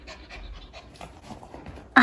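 A pet dog panting quickly and close by, short rhythmic breaths with soft cries of greeting around it, ending in a sudden louder burst at the very end.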